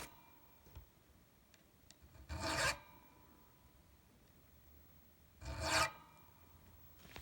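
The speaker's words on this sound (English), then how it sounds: "And I'm going to go like this with this file." A metal file rasps along the beveled body edge of an inexpensive Chinese electric guitar, two distinct scraping strokes about three seconds apart, close and clear over a quiet background with a few faint ticks.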